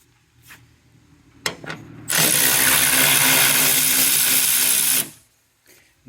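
A power tool spins out a 10 mm bolt on the cover of a 2009 Ford Escape Hybrid in one loud, steady whir lasting about three seconds, with light mechanical clicks before and after.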